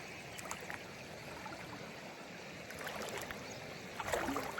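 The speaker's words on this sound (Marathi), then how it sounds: "प्रेशरने एकदम वाहते पाणी" Overflow water from a lake rushes through a spillway under pressure, a faint, steady gushing that swells slightly toward the end.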